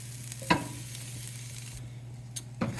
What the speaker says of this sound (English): So I'll just let this simmer for a couple minutes, no more than that.